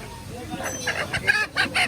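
Live chickens and roosters at a village poultry market in Dohar, Dhaka, Bangladesh cluck and squawk in short bursts close by, with voices talking in the background.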